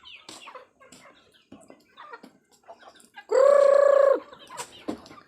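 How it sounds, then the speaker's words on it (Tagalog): Backyard chickens in a flock of about twenty, heard as scattered soft clucks and then one loud, drawn-out squawk lasting about a second, close by. "There, all my chickens. They're happy."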